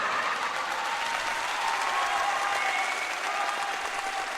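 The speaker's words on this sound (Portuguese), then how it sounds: "Palmas, por favor." A crowd applauds steadily, a dense, even wash of many hands clapping throughout without a break.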